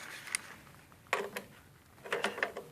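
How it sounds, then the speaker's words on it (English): Grip pliers working a retainer bolt on an oil boiler give faint metallic clicks and scraping ticks in three short clusters, close by and quiet, with no speech. "This retainer bolt here, I'm just going to loosen that, then screw this out."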